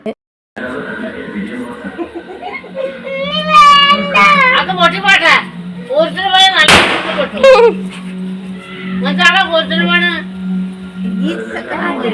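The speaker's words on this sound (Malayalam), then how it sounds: "ഇവിടെ ഇനി പടക്കം പൊട്ടിക്കലും കാര്യങ്ങളൊക്കെയാണ്." One sharp firecracker bang cuts through a child's whimpering and crying, over a steady low hum.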